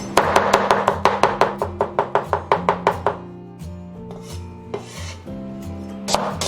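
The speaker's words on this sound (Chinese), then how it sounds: "料头的话，我们准备大蒜跟生姜，给它拍碎切成末。" A knife smacks and chops garlic and ginger on a cutting board in a fast, even series of sharp, close taps, then slows to a few scattered strokes over a tonal background hum.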